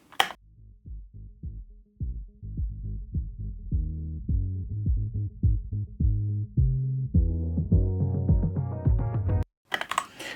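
A resampled rhythm section from an earlier song demo, bounced to a single track, plays on its own as a steady pulsing beat with low repeated hits and chords that build and brighten toward the end, then cuts off abruptly.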